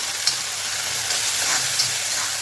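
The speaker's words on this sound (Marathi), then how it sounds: "मसाला चांगला परतून घेते आता गॅस मी मिडियमच ठेवलेला आहे" Khandeshi masala frying in oil over a medium gas flame, a steady close hiss of bubbling oil with faint stirring ticks and no voices.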